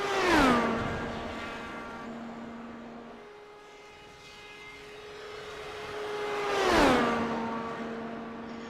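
Jason Lowe's IndyCar race car roars past twice at Indianapolis Motor Speedway on a qualifying lap, each loud close pass-by swelling and dropping sharply in pitch, with a quieter distant engine drone between them.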